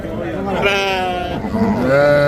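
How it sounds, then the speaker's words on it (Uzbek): Shori sheep bleat at a busy livestock market in Shahrikhan, Andijan: a run of loud, close, wavering bleats overlapping one another, with market voices mixed in. "Sho'ri qo'ylar ekan."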